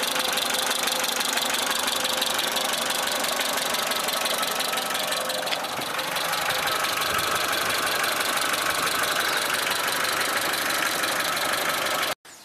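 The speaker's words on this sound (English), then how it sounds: "The engine's warmed up now a bit, so you can hear what it sounds like. It's a little bit of ticking" Nearby idling of a warmed-up Suzuki SJ410 engine with unadjusted valves: a continuous even drone topped by quick, light ticking that holds for about twelve seconds before cutting off abruptly.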